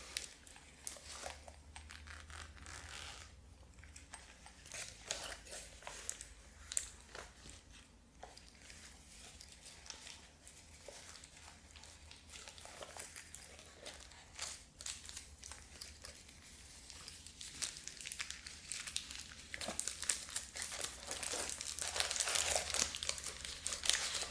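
Paper sheets handled and crinkled up close, a steady stream of rustling, crackling crumples with dense soft texture that grows busier and louder toward the end, no talking.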